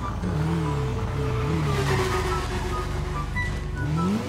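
A motorcycle engine in the GTA RP video game, idling and revving in rising and falling sweeps, loud and continuous with no talk over it.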